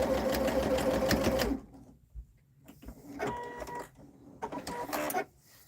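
A sewing machine stitches a quarter inch seam on a dress in a close, clear burst of fast rhythmic whirring. It stops, then comes back in two shorter runs with quiet gaps between them.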